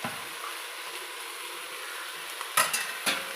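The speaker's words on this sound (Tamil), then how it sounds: "இது நல்லா வதங்கட்டும்" Vegetable pulao with green peas sautéing in a pan, giving a steady close sizzle with soft stirring scrapes and two sharper clatters near the end, no talking.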